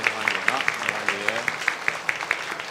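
A church congregation at a joint worship service clapping to welcome new visitors, evenly spaced rhythmic claps under a voice.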